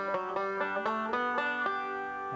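Five-string banjo playing a passage on a second pass, quick plucked notes rising and falling in a steady roll, ringing and fairly quiet up close, heard alone.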